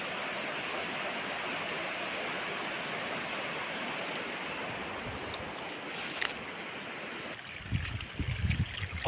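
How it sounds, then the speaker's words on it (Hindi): Water flows steadily down a mountainside as a continuous broadband rush, loud and close, with a few louder knocks and a change in tone near the end. "देखो इधर पानी आ रहा है।"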